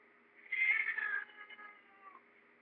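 A house cat meowing, one drawn-out, wavering yowl that swells and then fades, followed by a shorter, softer trailing call, close to the microphone in an otherwise quiet room.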